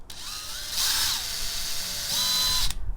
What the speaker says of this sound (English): We can drill this.